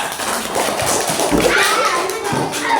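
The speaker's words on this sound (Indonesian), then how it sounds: "tepuk tangan." Classroom of children clapping together in a teacher-led round of applause, a dense patter of many small hands mixed with excited kid chatter and a few thumps, fairly loud and close throughout.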